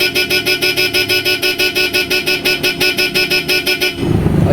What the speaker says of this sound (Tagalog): So ngayon, pakinggan natin yung tunog ng Bosch Europa.